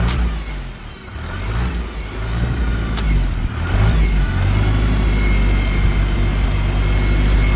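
Antique tractor engine at a plow day pulling off in first gear, a loud, close low rumble that swells and holds steady as it gets moving, with a sharp clank near the start.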